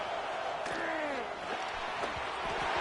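Loud, fired-up crowd noise fills a basketball arena early in a game, a steady roar with shouts rising throughout, while a few sharp bangs or bounces cut through.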